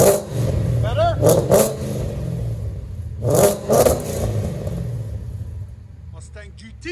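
A 2011 Ford Mustang GT 5.0 Coyote with true dual exhaust and long tube headers idles with a deep rumble and gives several sharp revs in two pairs, close and loud, before a brief voice near the end.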